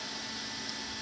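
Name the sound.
cooling fans of a Raspberry Pi computer running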